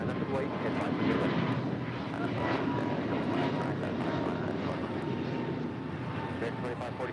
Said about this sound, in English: This is American 2543 departing to Dallas Fort Worth on an A321 Neo.